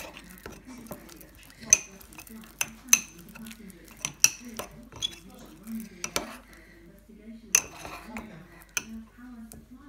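A spoon scrapes and clinks steadily against a bowl as slime is worked together with moisturizer, producing irregular sharp taps and soft squelchy stirring, close by with no talk over it.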